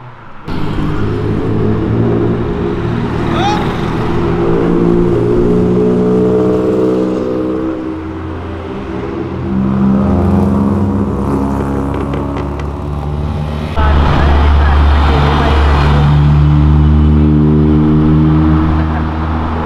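A Honda NSX bi-turbo revs and accelerates hard, loud and close, with the engine note rising through the gears in long climbing sweeps, easing briefly, then surging again toward the end.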